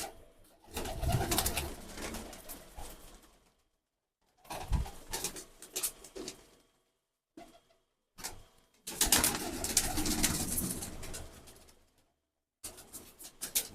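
Pigeons in a loft give soft, throaty coos in several separate bursts with short silences between, close and fairly quiet, with some faint rustling.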